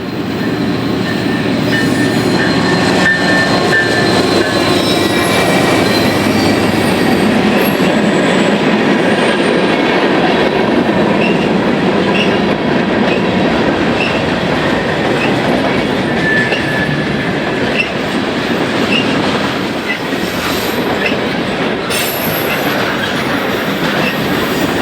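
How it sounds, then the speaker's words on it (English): A westbound Canadian National freight train rolls past on a gloomy day behind rebuilt locomotive CN 3386. A loud, steady roar of wheels and cars is heard throughout, with clickety-clack and faint squeal over the rumble. "westbound train A491 to Wisconsin Rapids behind rebuilt CN 3386, which is the former BNSF 4560"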